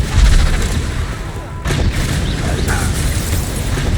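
Confringo blasting spells explode in Hogwarts Legacy on Xbox Series X, a loud, dense barrage of booms and bursts that keeps the action rumbling continuously.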